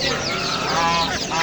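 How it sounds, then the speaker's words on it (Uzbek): Geese at a bustling poultry market, their loud nasal honks and cackles repeating in quick overlapping bursts, close and continuous beside other fowl. "200 ming debdi g'ozlarni mana."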